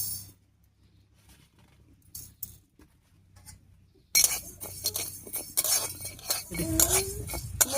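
Mung dal dry-roasting in a dry kadai, with quiet scraping at first and then louder metallic clinks and stirring scrapes of a spoon against the pan.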